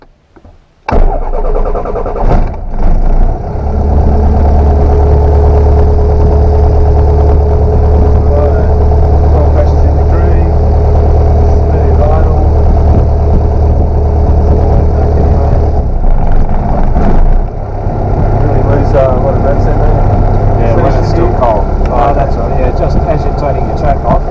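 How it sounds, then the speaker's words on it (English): Small training aircraft engine cranking for a moment, then catching and settling into a loud, steady idle with a low propeller drone, while a voice talks over it near the microphone. "Throttle start engine. A little bit of choke. Yeah. And throttle idle. Clear prop!"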